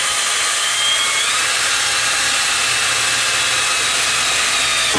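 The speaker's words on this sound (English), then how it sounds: "Now I've got my holes drilled" A power drill bores holes through the metal case of a Denon SA3900 stereo amplifier, a steady high whine running continuously and loud throughout with no pauses or voices.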